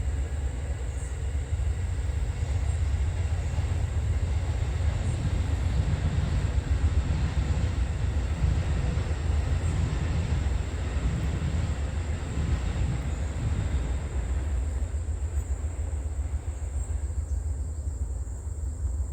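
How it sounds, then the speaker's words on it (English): A train rumbles past continuously with a heavy, steady low roar and rattling, loud and close throughout, with no voices. "the train went by"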